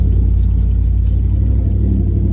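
A Whipple-supercharged 392 Ram truck idles while warming up, a loud, steady, deep rumble with a pulsing low throb, close and continuous.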